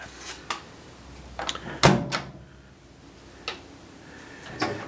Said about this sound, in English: So open the door now.